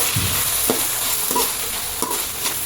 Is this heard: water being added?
no